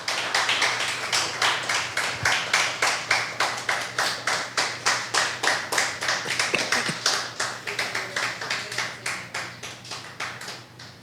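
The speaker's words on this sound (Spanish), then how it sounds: "Dale un aplauso al Señor Jesús" A church congregation claps together in a steady rhythmic beat, dozens of sharp even claps sounding in unison and fading slightly toward the end.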